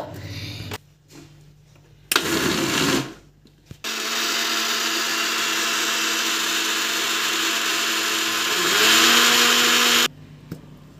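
A mixer grinder whirs loudly as it grinds coriander leaves and four green chilies with a little water, in short pulses and then a long steady run whose pitch rises near the end before it stops.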